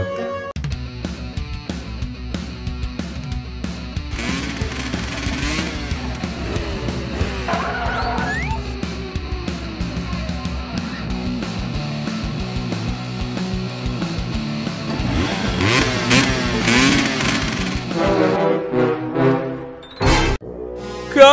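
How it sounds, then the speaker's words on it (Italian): A motorcycle engine revs and whines with sweeping pitch alongside screeching, skidding tire sounds, running continuously and loud before ending in a short sharp burst. "Aspetta un attimo, una moto!"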